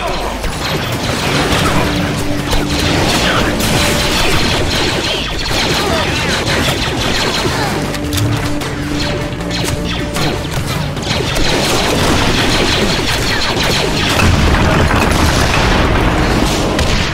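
Grenade explosions blowing up a generator in the video game Star Wars: The Clone Wars – Republic Heroes, loud dense bursts and crashing debris amid clanking mechanical noise, continuous and busy throughout.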